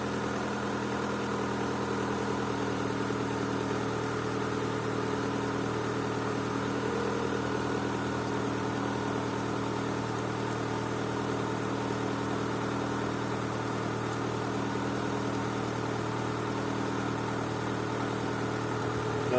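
A car engine idles steadily after an engine flush, a low even hum with faint vibration that runs alone and unchanged the whole time.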